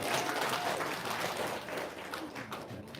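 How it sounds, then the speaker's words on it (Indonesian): An audience claps at an evening gathering, a fairly faint, steady patter of many hands that fades slightly toward the end. "Tepuk tangan dong."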